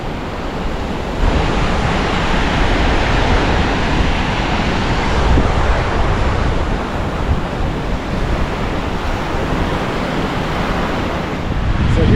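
Ocean surf rolls in at Bac My An Beach in Da Nang, a loud continuous wash of breaking waves with wind buffeting the microphone, no voices over it.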